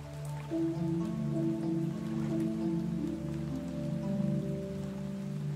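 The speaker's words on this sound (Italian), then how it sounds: "La pioggia scende dal cielo e lava via tutti i tuoi pensieri." Steady rain falling throughout, a continuous soft patter and hiss with drips, blended with a sustained low tonal drone of meditative music.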